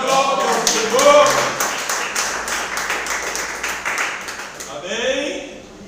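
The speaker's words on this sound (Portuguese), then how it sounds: "Quem bate palmas da glória ao Senhor?" A Pentecostal church congregation claps during a worship service, with fast, rhythmic handclaps filling the room under a preacher's voice and then fading out.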